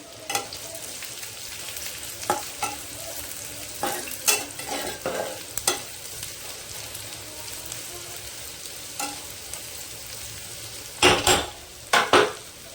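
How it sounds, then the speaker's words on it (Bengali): Chopped raw onion fries in a little white oil, with a steady sizzle under repeated spatula scrapes and clanks against the pan, some louder clatters near the end, close up and without speech. "পেঁয়াজটা একটু হালকা করে ভেজে নেব।"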